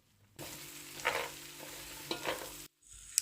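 Mutton pieces fry in a pot for a pilau, giving a steady close sizzle with two short louder bursts of stirring, then a brief pause before the hiss resumes.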